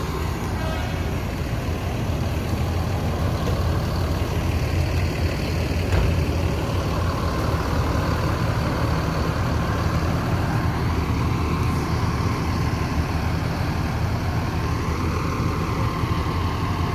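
A PALALA express bus engine drones steadily while driving in hot midday conditions, a constant loud rumble with road noise throughout and no speech.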